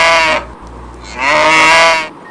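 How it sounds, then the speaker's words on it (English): A cow moos twice, each a loud, drawn-out harmonic call close by, with a short quiet gap between them. "This animal is cow."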